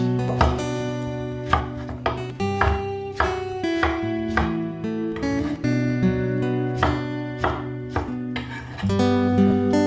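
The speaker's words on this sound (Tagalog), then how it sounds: "Hiwain din natin ang ating kamatis." A knife cuts tomatoes on a board for sinigang, a series of crisp chopping knocks at an uneven, unhurried rhythm, close and clear, with steady music playing underneath.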